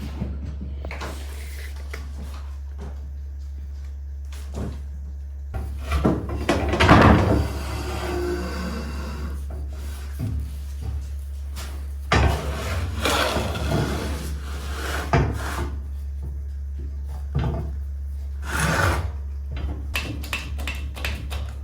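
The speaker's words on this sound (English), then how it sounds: "slide it through the bender and slowly make my bend instead of trying to make it all at once" A tube bender bending steel tubing for Suburban rock sliders in slow stages, with bursts of creaking, scraping metal strain separated by pauses, over a constant low electrical hum.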